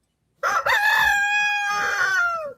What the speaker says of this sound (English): That rooster guy of mine, he's just a little too slow.